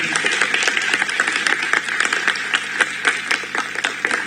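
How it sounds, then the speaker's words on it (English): A large audience applauds steadily for about four seconds at a public event with actor Ram Charan, dense clapping filling the room without pause and no speech on top. "I think it deserves a big round of applause over again."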